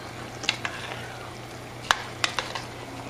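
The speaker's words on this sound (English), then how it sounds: "stirring that around, letting it get nice and cooked" Hamburger meat frying and being stirred in a pan, a soft continuous sizzle broken by a few sharp scrapes and clinks of the utensil against the pan, with no talking.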